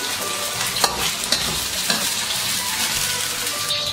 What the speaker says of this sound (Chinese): 将鸡丁炸熟舀出，将鸡丁炸熟之后倒出控油